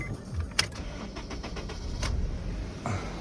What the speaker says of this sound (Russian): Заводим машину.